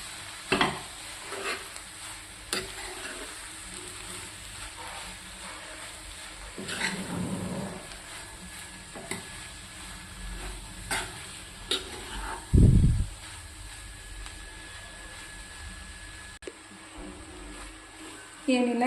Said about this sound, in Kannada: ಇದನ್ನೆಲ್ಲ ಮತ್ತೊಂದು 5 ನಿಮಿಷ ಫ್ರೈ ಮಾಡಿ